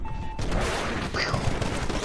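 Dense gunfire from the video game Titanfall rattles continuously as the player takes hits, a sustained fusillade of rapid shots with a brief high ricochet-like whine in the middle, loud and close.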